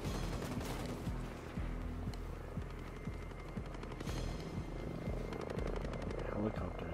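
A helicopter in the Ghost Recon Breakpoint video game gives off a rhythmic rotor thumping that runs steadily throughout, mixed with bursts of gunfire and battle noise.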